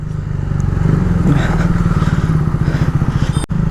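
A KTM Duke motorcycle fitted with a barrel exhaust idles shortly after a cold start, giving a loud, close, rapid, even thump. The pulsing runs steadily, then briefly cuts out near the end.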